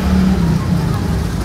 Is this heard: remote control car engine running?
yes